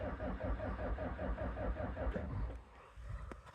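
A Bobcat 753 skid steer diesel engine running rough just after a cold start, a close, steady rhythmic chug that then fades, with small clicks at the end.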